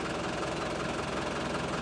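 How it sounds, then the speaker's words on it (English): Safari vehicle engine idling in Kruger National Park, a steady close low rumble with even vibration throughout the short stretch and no talk. "You turn the engine off, please."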